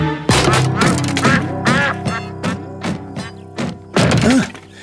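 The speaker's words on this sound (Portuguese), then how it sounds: "Será que vocês podem dizer ao Pocoyo quem fez esse barulho? O pato! É o pato!" A cartoon duck quacks in a quick series of loud, nasal calls, about eight bursts, some clustered and some spaced apart, with no talking.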